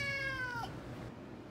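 A single drawn-out cat meow, clear and fairly close, fading into quiet low background noise.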